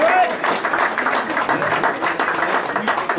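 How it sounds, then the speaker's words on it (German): Applause for the kitchen staff at a German village festival, dense clapping from a crowd filling the short stretch at moderate loudness, with voices mixed in. "ein riesen Applaus für die Küche"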